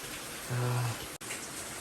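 Rain falls outside as a steady broadband patter and wash, with a brief tonal hum partway through and a sudden short dropout near the end.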